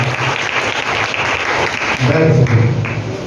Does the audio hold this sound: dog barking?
no